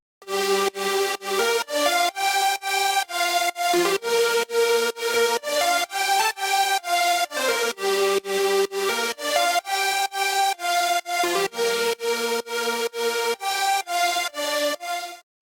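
Layered brass synth leads from the Vital synthesizer, combined and played together as one thick, bright lead, repeating a rhythmic melodic phrase of short punchy notes, loud and close with no talk.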